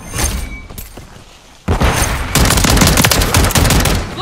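In a Call of Duty match, a grenade blast and rapid gunfire sound loudly up close, with a quieter stretch of scattered shots before a sudden burst of dense, sustained firing.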